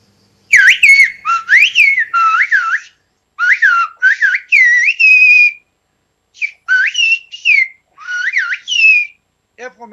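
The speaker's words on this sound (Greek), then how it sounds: "Να μας πείτε καλό καλοκαίρι, μια ευχή με σφυρική γλώσσα" Summer greeting in a Greek whistled language, given as loud, close whistled phrases of gliding, rising and falling pitches in several bursts separated by short pauses, with no talking.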